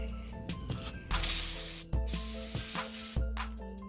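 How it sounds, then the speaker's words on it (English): A loud, sustained aerosol spray of brake cleaner on a John Deere Z540R zero-turn mower during an oil change hisses for about a second, cuts off briefly, then resumes under steady background hum and clatter. "get some brake cleaner, spray that off"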